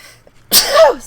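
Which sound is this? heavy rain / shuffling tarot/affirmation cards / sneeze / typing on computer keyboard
sneeze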